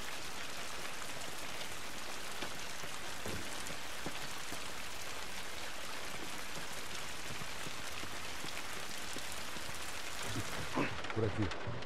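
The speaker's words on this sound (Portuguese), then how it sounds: "Essa chuva não vai nos ajudar." Steady rain pours in The Last of Us video game, a dense, continuous hiss of drops spattering on surfaces throughout, with a few faint low rumbles and knocks near the end.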